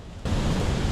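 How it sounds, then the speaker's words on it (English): A waterfall on a hiking trail in Costa Rica gives a steady broadband roar that swells suddenly a moment in, then holds loud and constant without any voices. "Long before I saw the waterfall, I heard it."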